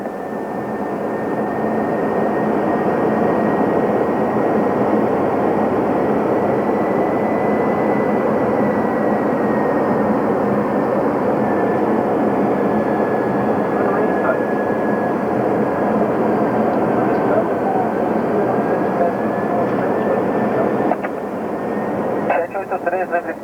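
An airplane takes off after receiving takeoff clearance on a runway with wind from 150 degrees at 8 knots. A loud, steady engine roar runs throughout, with a faint rising tone and a few clatters near the end.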